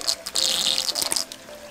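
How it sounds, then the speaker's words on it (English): Water sucked through a siphon hose drawing from a river, a gurgling, hissing rush with uneven bursts and splashes, close and fairly loud. "So I will let you see how it suck the water."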